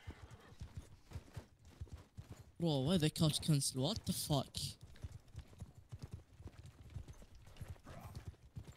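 Horses clatter with galloping hooves and a sharp neigh during a video game battle at Baltakhand against Chinese forces, loud in a burst mid-clip while players talk over the action.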